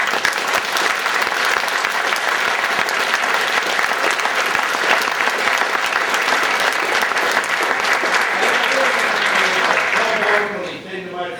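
A seminar audience in Milton Keynes, UK, gives a round of applause: loud, thick, continuous clapping from a large crowd that holds steady before tapering off near the end.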